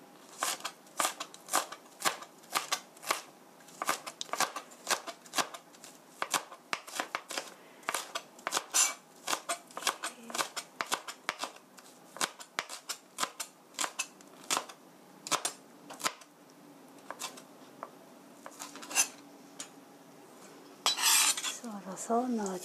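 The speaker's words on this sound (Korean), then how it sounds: "대파 뒤집어서 썰면 잘 썰어지니까 이렇게 해서 송송송 썰어 주시고요." A knife slicing welsh onion on a cutting board, a fast run of crisp rhythmic chops close up that slows and thins toward the end, followed by brief rustling, no talking.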